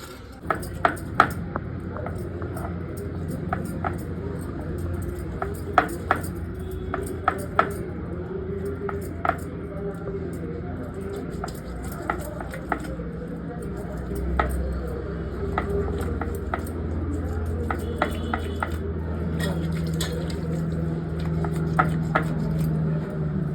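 A knife chops fish into small pieces for a home-style fish curry, sharp knocks landing at an uneven pace with light clinks of kitchenware, over a low background hum.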